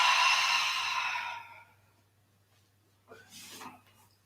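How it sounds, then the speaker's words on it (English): A long, loud breath exhaled during a live-streamed yoga class, with a rushing sigh that fades out, then a short pause and a softer second breath near the end. A low steady hum sits under both. "Start breathing."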